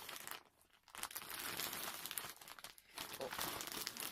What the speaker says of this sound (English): Oh, I'm rustling.